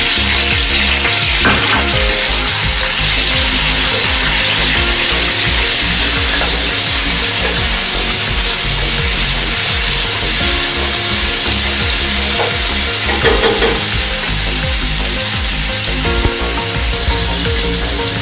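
Masala frying in oil in a pan for vegetable kurma: a loud, steady crackling sizzle close up, with occasional scraping stirs over it throughout, no one talking.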